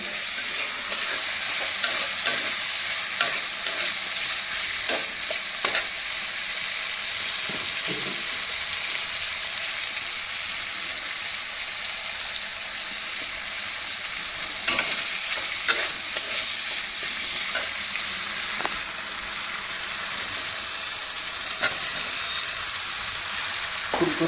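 Fish and potatoes fry in a pan with a steady, close sizzle throughout, broken by repeated scraping clicks as a spatula stirs them, with no voices.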